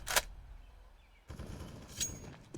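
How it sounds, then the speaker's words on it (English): Flashbang grenade going off in a video game: a sharp, bright burst at the start, then a second louder blast with a loud rumbling roar and another crack after a short lull. "Flashbang."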